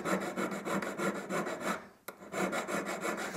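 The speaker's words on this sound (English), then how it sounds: "Notice I'm just filing vertical now." A half round needle file works wooden inlay pieces with steady back-and-forth rasping strokes, close and fairly loud, with one brief pause near the middle and no talking.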